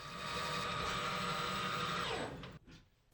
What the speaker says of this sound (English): Time to cut the retaining ring groove.